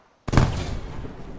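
Mortar fire in the Arma 3 military sim, one sudden loud blast after brief silence, rolling into a long rumbling decay.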